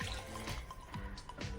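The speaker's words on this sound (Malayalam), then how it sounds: "ആവശ്യത്തിനുള്ള വെള്ളം ഒഴിച്ച്" Water poured into a cooking pot over chopped raw green banana pieces for a curry, a short, steady splashing pour close by with no voices.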